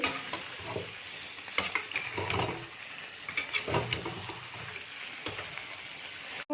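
Vegetarian jackfruit curry being sautéed in a pan, with steady sizzling and frying under repeated stirring scrapes and clinks of the spoon, close and continuous.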